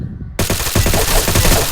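Desert Eagle pistol fire in a shooting video game: after a brief silence, a loud burst of rapid shots rings out close and continuous.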